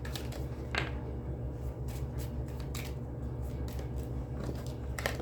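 Tarot cards are shuffled in a quiet room, giving soft, brief papery riffles and taps scattered across a few seconds, close and faint over a low background hum.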